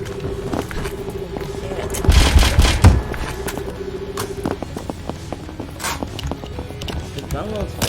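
Gunfire from the video game Scarlet Shell rattles as quick bursts of automatic shots under game music and effects, with a louder, denser volley in the middle; a voice talks throughout.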